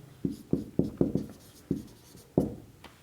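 Chalk or marker strokes on a classroom board make about seven firm, scratchy taps in an uneven rhythm, close and clear against a quiet background.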